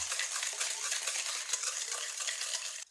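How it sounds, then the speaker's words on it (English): Whisking hot cream into eggs to temper them for homemade stout ice cream, a steady rapid scraping and clinking of a whisk against a bowl that runs continuously and close, then stops abruptly. "I'm going to slowly add a little bit of the hot cream to the eggs while whisking."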